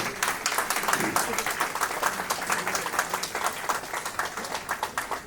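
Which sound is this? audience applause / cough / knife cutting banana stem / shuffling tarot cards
audience applause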